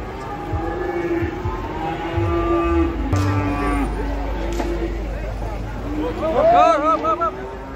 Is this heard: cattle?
yes